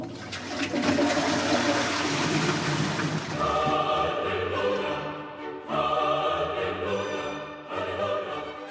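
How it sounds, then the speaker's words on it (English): A Victorian chain-pull toilet flushes with a loud rush of water that settles into gurgling and refilling, with a few sharp surges, alone and close. "So all bodily waste could be removed from the premises by a mere tug on the chain."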